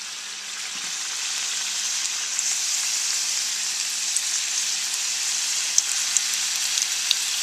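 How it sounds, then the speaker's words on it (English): Wontons frying in hot oil, a steady close sizzle and crackle with occasional faint pops, continuous and even throughout with no voices. "So let them fry."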